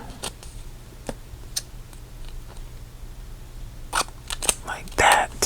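Scissors snip through a sheet of planner stickers in sharp, close clicks spaced irregularly, quicker and louder toward the end, under a quiet background hum.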